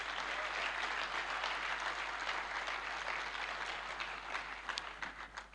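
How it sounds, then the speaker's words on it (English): An audience at a university convocation lecture breaks into a steady round of applause, many hands clapping densely and evenly before thinning slightly toward the end. "I think he deserves another round of applause."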